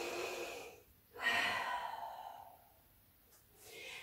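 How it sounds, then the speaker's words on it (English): A deep, audible breath is drawn in and slowly let out during a short child's-pose rest in a home workout, close and soft, with a second fainter exhale at the end. "Deep breath."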